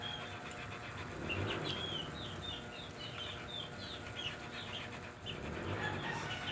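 Chickens cluck and chirp in short bursts close by, with a steady low rumble of background noise throughout.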